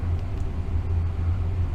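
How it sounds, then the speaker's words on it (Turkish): Steady low rumbling roar of strong wind buffeting, constant and heavy throughout, with no voices. "E, 50 nat rüzgar esiyor."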